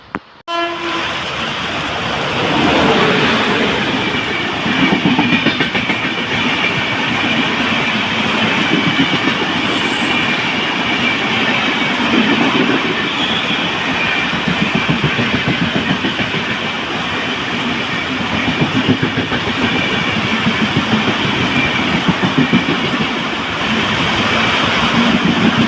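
A train passes Chirakkal railway station in Kerala in heavy monsoon rain, a loud sustained rumble and rattle of wagons close by that keeps going steadily, with no one talking.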